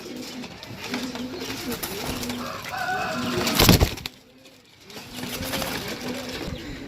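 Pigeons for sale coo repeatedly in low, throaty warbles close by, with a brief burst of wing flapping midway.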